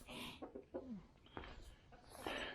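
Chickens cluck and squawk in short, close bursts in a barnyard on a snowy March day, fairly quiet overall.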